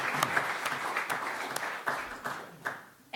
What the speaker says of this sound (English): Guys, let's please give a round of applause,